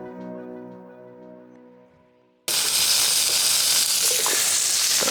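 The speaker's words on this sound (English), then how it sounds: "I'm just doing some sausages and onions, just going to put it on a bit of bread for breakfast" Sausages and onions sizzle loudly in a pan over a campsite breakfast fire, a dense steady frying hiss that bursts in suddenly after a quieter tonal opening and holds close and constant.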